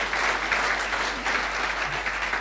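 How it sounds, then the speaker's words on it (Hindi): Loud, sustained applause from an audience at a business team follow-up function, dense steady clapping filling the whole stretch without a break. "जोरदार तालियां होनी चाहिए"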